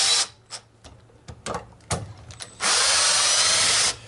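Power drill driving deck screws into wood while building a homemade honey extractor, with short bursts of tool noise and clicks before one long, loud, steady drill run near the end.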